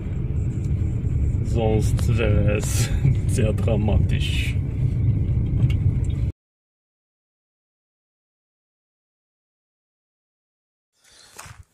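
A car driving along a very bad, rough road in Belitsa Park, Bulgaria, its heavy rumble and jolts loud and close under ongoing talk for about six seconds, then silence with a brief faint noise at the end.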